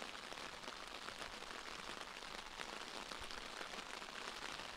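Steady rain falls on an outdoor Australian football ground in London during a finals day, a dense, even hiss of drops holding constant with no voices over it.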